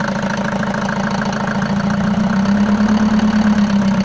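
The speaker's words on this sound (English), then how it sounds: "it will be nice to accelerate a bit the car so that it's not that idle" A Mercedes-Benz W124 engine runs loud and close at idle, then is raised slightly by hand on the throttle, its steady hum lifting to a firmer, higher drone midway.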